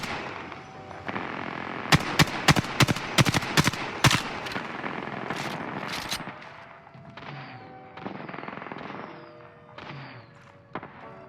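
Rapid bursts of gunfire from the video game Apex Legends, a dense run of sharp shots clustered over the first half, then scattered reports and game effects trailing off, loud and close with no talk.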